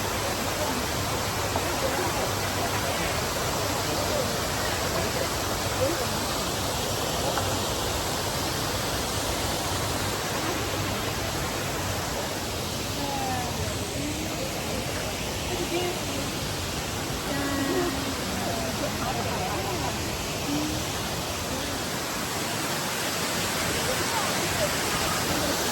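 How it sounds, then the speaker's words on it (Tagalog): Shifen waterfall in Taiwan roars as a steady, dense broadband rush of falling water, continuous and loud throughout, with faint voices mixed into the constant wash. "Ayan po yung waterfalls nila."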